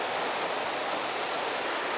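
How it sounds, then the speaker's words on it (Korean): Water rushing in a wide mountain valley stream at a Korean forest campground, a dense, steady broadband roar with no breaks, close and fairly loud, no voices. "옆에 계곡이 있고 이 물소리가 나니까 시원한 느낌은 가질 수 있겠네요"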